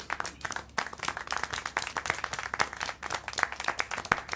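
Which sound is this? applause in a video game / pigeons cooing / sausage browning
applause in a video game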